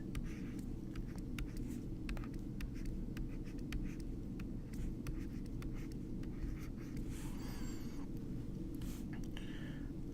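Writing on a board during a math lesson on arithmetic sequences: quick, light scratching strokes and taps come in short bursts over a steady low background hum, with no talking.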